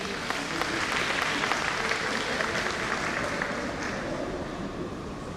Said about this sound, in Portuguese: Uma palmas para ele aqui.